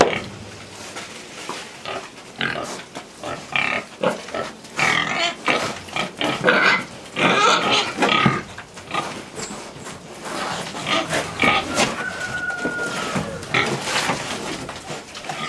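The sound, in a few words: pigs grunting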